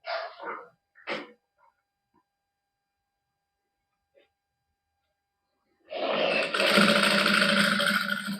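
A sewing machine stitches a lace strip onto a plain suit. A few short vocal sounds come first, then near-silence, and then a loud, steady, fast mechanical whirring starts and continues to the end.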